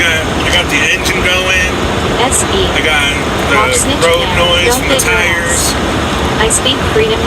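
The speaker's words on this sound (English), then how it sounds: "I got the road noise from the tires." Steady car engine drone and tire road noise while driving on a road toward Las Vegas, a constant loud rumble from inside the vehicle with someone talking over it throughout.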